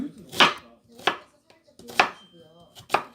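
A knife chops through an onion on a cutting board in four sharp, separate strikes with uneven pauses between them. No one speaks.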